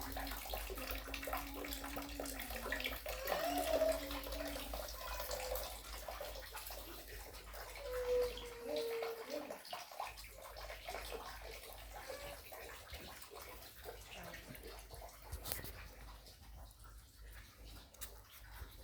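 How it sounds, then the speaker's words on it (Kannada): Water falls and pours down steadily at a low level, a continuous washing rush with faint background sounds and occasional brief tones over it. "ಇಲ್ಲಿ ನೀರು ಬೀಳುತ್ತೆ."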